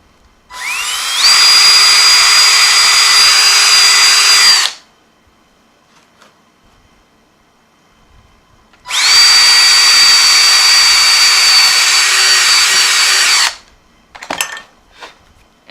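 Two long bursts from a power drill boring into a car part, each a loud, steady high whine lasting about four seconds, separated by quiet, followed by a few faint clicks and knocks.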